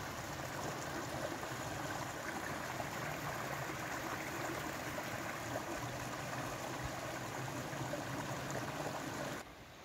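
A river flows steadily beside a bridge with wooden planks and metal pipes, producing a constant, fairly quiet broadband rush of water with no speech, continuing evenly until it cuts off near the end.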